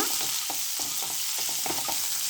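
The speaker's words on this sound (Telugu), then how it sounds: "ఆనియన్స్ కూడా కొంచెం ఫ్రై, ఇది ఎక్కువ ఫ్రై అవసరం లేదండి." Sliced onions frying in a pan for idli upma, a continuous close hissing sizzle with soft repeated stirring scrapes through it, steady and moderately loud, with no voices.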